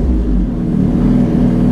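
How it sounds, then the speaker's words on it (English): Suzuki GSXR1000 motorcycle with a Healtech quickshifter, downshifting through the gears without the clutch: a loud, continuous engine drone with low rumble and slight shifts in pitch, close up. "And downshifting works as well."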